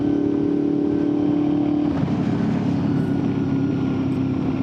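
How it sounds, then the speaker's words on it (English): Honda VFR800fi motorcycle engine while riding through town, a steady, close, loud droning hum that shifts in tone about halfway through and continues without a break. "bike sounds good"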